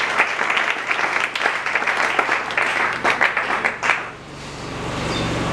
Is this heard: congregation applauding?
yes